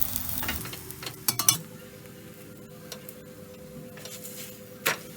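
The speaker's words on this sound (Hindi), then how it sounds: "साइड पलटी करके गोल्डन ब्राउन होने तक दोनों तरफ से परांठे को फ्राई कर लेंगे।" Millet aloo paratha frying in ghee on a pan over medium heat, a soft steady sizzle with a few clinks and scrapes of a spatula near the start and another near the end.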